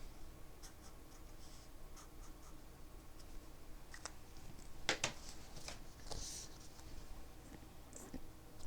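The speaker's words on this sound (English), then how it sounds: "Here, let me write this down." Pen writing notes by hand during a live music theory chat, heard as faint, close scratchy strokes and taps in short bursts over quiet room noise, with no talking.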